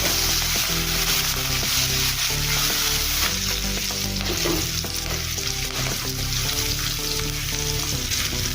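Onions and green chilies sizzle and crackle steadily in a hot pan, a continuous frying hiss with occasional stirring scrapes.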